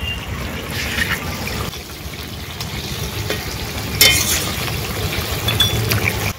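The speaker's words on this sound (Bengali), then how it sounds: "এবারে দিয়ে দেবো জিরে বাটা, ভেজে রাখা কই মাছগুলো," Ground cumin paste and fried koi fish going into a hot cooking pan, with a steady loud sizzle, some stirring scrapes and a sharp clink partway through, with no talking.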